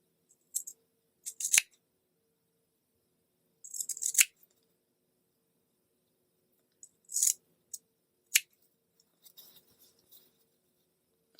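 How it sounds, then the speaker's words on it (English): Small snips cut into a fabric seam allowance with crisp, close, bright snipping sounds, arriving in short clusters of a few cuts separated by quiet pauses. "I'm going to put snips in it with my little snips right here"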